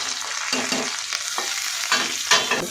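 Cut and washed mushrooms sizzle in a hot pan for a biryani, with a steady frying hiss and a few scraping stirs up close.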